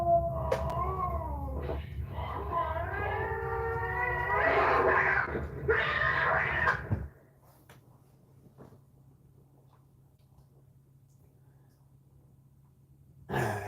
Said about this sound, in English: now you can hear cats